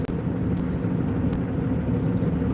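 A truck parked for a rest break sits idling, its engine making a steady low rumble heard close from the cab, even and continuous with faint small knocks and no talking.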